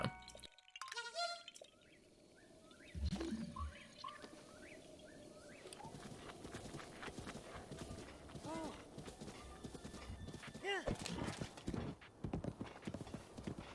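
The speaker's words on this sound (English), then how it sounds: "you want to jump across the small fences of the horse" Hooves clip-clop rhythmically as a horse gallops and leaps small fences in The Legend of Zelda: Breath of the Wild, with bird calls and a neigh mixed in over a quiet outdoor backdrop.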